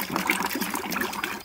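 Sesame oil and coconut oil pour in a steady, close liquid stream, a soft continuous gurgle and trickle with no voices.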